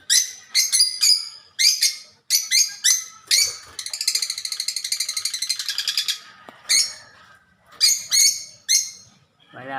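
Pet pigeons calling in a series of loud, close, repeated cooing notes, including one long rapid rolling call in the middle, with no talk.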